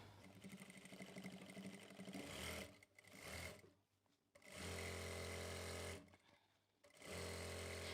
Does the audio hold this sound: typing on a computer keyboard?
no